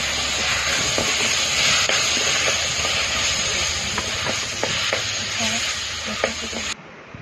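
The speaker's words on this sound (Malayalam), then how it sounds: "പച്ചമണം പോയതിനു ശേഷം തക്കാളി 4 എണ്ണം മുറിച്ചത് ചേർത്ത് നന്നായി ഇളക്കി യോജിപ്പിക്കുക" Four chopped tomatoes get stirred into hot curry masala for beef curry, producing a loud, dense sizzle with scattered spoon clicks before the sound cuts off abruptly near the end.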